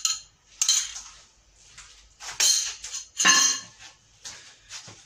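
A spoon stirring semolina and jam together in a bowl for a Moroccan semolina cookie dough, giving irregular clinks and scraping knocks against the bowl with quiet gaps between.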